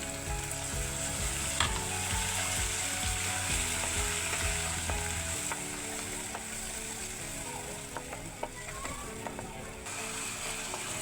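Spices and bay leaf fry in a pan with a steady sizzle, while low mechanical humming and rattling run underneath and occasional light stirring clicks sound nearby.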